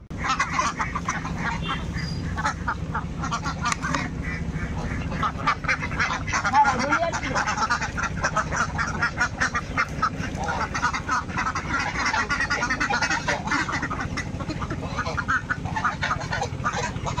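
A flock of Chinese geese kept as pets honk and cackle continuously in a noisy, crowded chorus, close by, with a person talking over them throughout.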